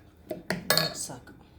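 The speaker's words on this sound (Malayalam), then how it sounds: "ഞാനിവിടെ തേങ്ങയുടെ കൂട്ട് ഒഴിച്ചിട്ട് നന്നായിട്ട് മിക്സ് ചെയ്ത് കൊടുത്തിട്ടുണ്ട്" A spoon scrapes and clinks against a cooking pot while ground coconut paste is stirred into a yam curry, several brief clattering strokes close by.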